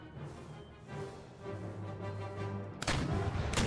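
Rocket fire aimed at a British infantry block in Empire Total War, distant booming bursts under battlefield rumble, ending in one loud sharp blast.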